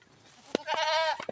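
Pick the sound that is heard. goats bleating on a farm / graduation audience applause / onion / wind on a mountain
goats bleating on a farm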